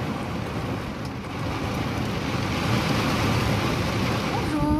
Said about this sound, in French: il y a une pluie torrentielle là